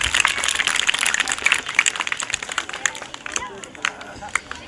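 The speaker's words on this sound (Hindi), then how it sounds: "एक बार सभी बच्चे उनके सम्मान में बहुत जोर से तालियां बजाएं।" Schoolchildren clap together at a Republic Day school celebration, a ragged flurry of sharp claps that thins out over a few seconds amid crowd chatter and nearby voices.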